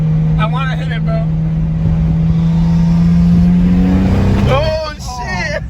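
A tuned BMW 335i with the N54 engine, running an MHD tune on E40 fuel, drones steadily from inside the cabin and then revs up hard near the end, while people talk excitedly over the engine.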